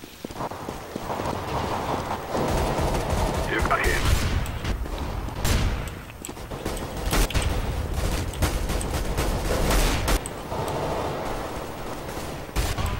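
Shotgun blasts and gunfire from the video game Counter-Strike: Global Offensive, several sharp booming shots spread unevenly across a busy stretch of game noise, loud and close.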